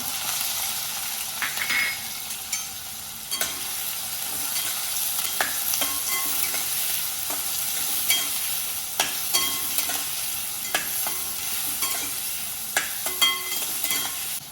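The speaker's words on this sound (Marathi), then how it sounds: "तर ह्याच तेलामध्ये एक चमचा जिरं आणि एक चमचा मोहरी आपण टाकणार आहोत त्यासोबत कांदा" Cumin, mustard seeds and onion fry in oil with a constant bright sizzling hiss, punctuated by scattered sharp crackles and pops and occasional utensil scrapes.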